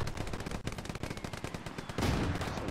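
Sustained rapid gunfire from an M1 rifle in a World War II shooter, dense overlapping shots and explosions throughout, fairly faint overall in a noisy battle mix.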